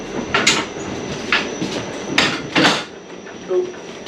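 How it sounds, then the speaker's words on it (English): Rail noise from a train passing Romsey signal box, with sharp bursts and rattles, close by and fairly loud, over a steady background hum. "The train here is just left, so it's going to go up and along."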